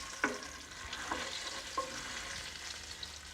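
Garlic and ginger sizzling in melting butter while being stirred, a steady soft frying hiss with a few brief scraping clicks of the spoon, close and fairly quiet, no voices.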